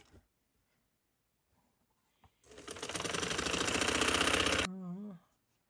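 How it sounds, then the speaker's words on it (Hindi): A sewing machine stitching a half collar neck runs in one continuous burst of rapid mechanical rattling lasting about two seconds, loud and close, after a few quiet handling clicks, then winds down with a brief whirring tail. "अब आ जाते हैं इसको सिलाई जो फाइनल है।"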